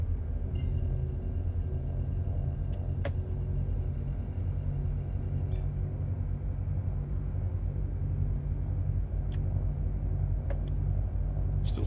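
A Star Citizen spaceship's drive spools up as a steady, close, low rumbling hum with faint high whining tones, constant throughout with no voices.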